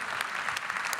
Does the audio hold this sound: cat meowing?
no